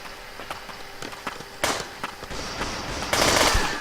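Video game gunfire from CS Portable: a series of sharp automatic shots in short bursts, building to a louder, denser volley near the end, with no talking.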